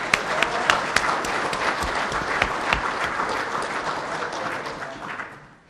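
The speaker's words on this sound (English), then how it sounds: "I think he deserves a big round of applause." An audience in a room applauds Colin McDougall with steady, dense clapping that holds for several seconds, then thins and fades out at the end.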